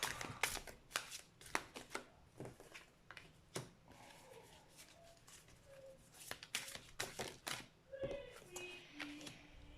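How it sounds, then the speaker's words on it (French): Tarot cards being shuffled and cut by hand, soft papery slaps and riffles in irregular bursts, close but quiet, with faint background voices and tones in places. "On va faire une coupe au tarot pour les énergies générales et principales."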